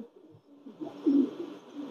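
A Pakistani Teddy pigeon coos low and close at night, a short rolling call that swells in the middle and fades out, with no talking over it.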